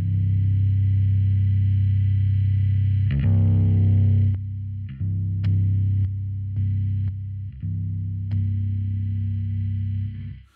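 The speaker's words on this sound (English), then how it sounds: "you can actually hear a little click there where the distortion turns on" A bass guitar plays through a drive pedal, sustained low distorted notes with a clear attack partway through, followed by several repeated plucked notes broken by short gaps.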